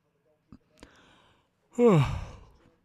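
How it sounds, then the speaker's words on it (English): A single big yawn, drawn out and breathy with a falling voiced tone, follows a couple of faint small clicks in an otherwise quiet room. "Big yawn."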